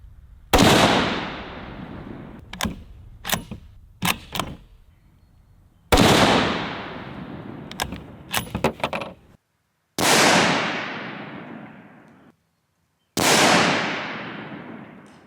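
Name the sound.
rifle shots fired through a scope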